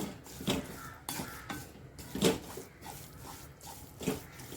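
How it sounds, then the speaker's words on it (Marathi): A spoon stirs melting jaggery in a pan, close scraping strokes with metallic clinks repeating roughly every second over a faint sizzle. "गूळ वितळायला द्यायचं आहे म्हणून सारखं ढवळत राहायचं"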